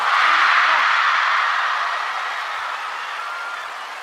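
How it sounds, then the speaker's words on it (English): A broad wash of crowd noise and applause at a table tennis men's singles quarterfinal in Chongqing, loud at first and then gradually fading over several seconds, with no clear voice on top. "And the noise of the crowd."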